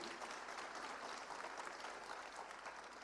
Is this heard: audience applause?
yes